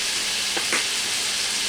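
Beef mac and cheese mixture with sprinkled flour being stirred in a skillet, a constant close hissing sizzle with a couple of brief scraping strokes from the spoon.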